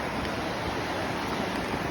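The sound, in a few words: Devil Track River flowing water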